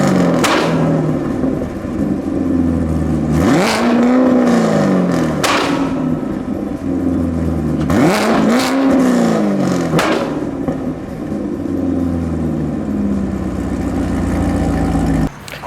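A car engine with a quad-tip exhaust rumbles at a steady idle and rises in two strong revs, each climbing and falling back with deep thuds, loud and close with no talking.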